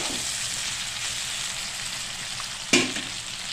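Herbs and masala fry in oil that has started to separate, giving a continuous close sizzle with a single sharp clatter of a utensil near the end.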